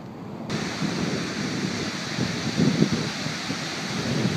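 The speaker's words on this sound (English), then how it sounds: "Decent session, waves are building." Ocean surf at a surf spot as waves build, a steady broad wash of breaking water with wind buffeting the microphone, louder rolling crests swelling near the middle and end.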